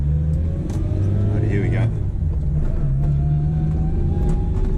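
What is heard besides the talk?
straight-cut gear transmission whine, 1976 Honda Civic driving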